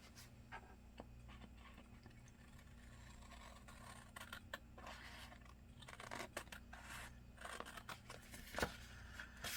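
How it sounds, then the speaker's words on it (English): Scissors snip through label paper, cutting it into small strips with a series of quiet, irregular crisp cuts up close against a faint background hum. "I am going to cut out"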